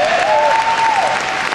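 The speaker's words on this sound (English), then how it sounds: "Give yourself a round of applause." Applause from an audience at a corporate business event, steady dense clapping filling the short stretch alone, with a sustained tone running underneath.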